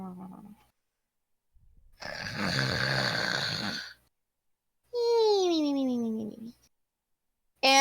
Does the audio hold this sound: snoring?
yes